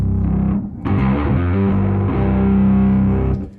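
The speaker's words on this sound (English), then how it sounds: "I play a lot of Fenders, and this distortion pedal that I created" A heavily distorted electric guitar, a Fender through a distortion pedal, plays thick, crunchy chords, briefly dropping out before ringing on loud and sustained.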